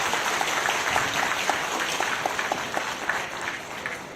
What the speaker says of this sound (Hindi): उन सब के लिए एक जोरदार ताली से स्वागत किया जाए।